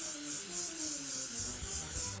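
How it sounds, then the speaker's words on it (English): Hairspray misted from an aerosol can onto freshly curled hair, a steady, close hiss lasting about two seconds over a soft tonal hum, ending with a brief thump. "Okay, time to spray."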